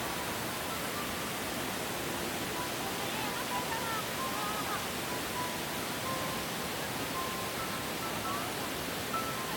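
Shuzheng Waterfall at Jiuzhaigou gives a steady, dense roar of falling water, loud and unbroken throughout, with no voices over it.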